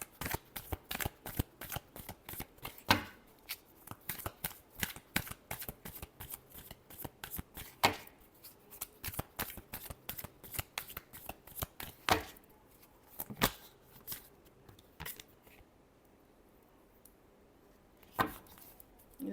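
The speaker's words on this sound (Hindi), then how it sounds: "last shuffle" Tarot cards being shuffled by hand in a long run of crisp riffling and slapping bursts, steady at first and then thinning into a few separate louder snaps near the end, with no talking.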